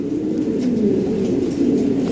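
Fancy pigeons cooing steadily and fairly loudly at close range while being boxed up for delivery, with a continuous low murmur of several birds throughout.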